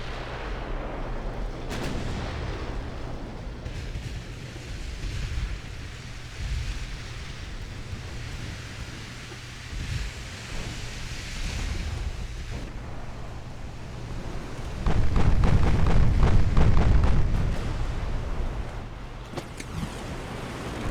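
Ship guns firing in a naval battle video game, a series of deep booming shots over a rumbling low background, with a heavier sustained barrage of blasts toward the end.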